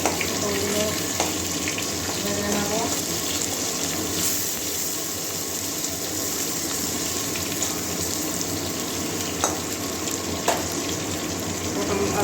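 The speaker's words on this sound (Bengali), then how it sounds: "এইভাবে লাল লাল করে ভেজে নিচ্ছি" Potatoes and tender pointed gourd frying in hot oil, giving a steady, dense sizzle that holds close and even throughout, with no voices.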